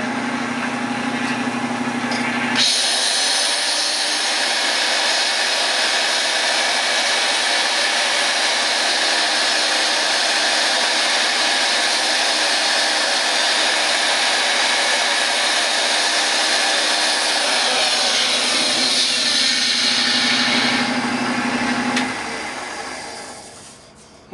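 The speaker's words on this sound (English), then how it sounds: "I'm going to try this rotary drill" A rotary drill with a sanding attachment smoothing tool marks inside a wooden donut bowl, a steady high whirring drone running about twenty seconds, starting and stopping abruptly.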